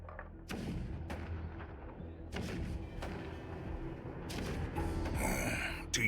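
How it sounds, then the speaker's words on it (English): Rumbling cannon fire in the video game Honkai: Star Rail: several deep booms and thuds spaced over a low, continuous rumble, with a brighter burst of noise near the end, no speech. "The rumble of the cannons."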